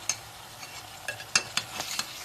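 Chicken pieces frying in a pan, a quiet sizzle broken by several sharp clinks and scrapes of a utensil stirring, close and fairly soft.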